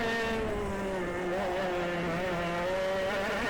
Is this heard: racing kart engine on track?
yes